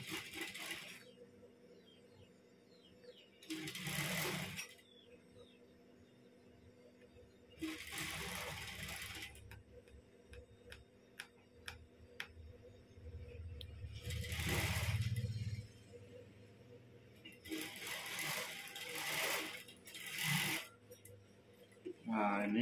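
A sewing machine stitches red brocade fabric for a kebaya, running in several loud bursts of fast mechanical whirring set apart by quieter pauses, close to the microphone.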